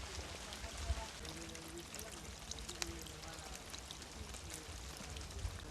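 Water pours steadily into a stone drinking trough beside a Roman road, a continuous soft trickling stream with faint outdoor ambience and no clear voices.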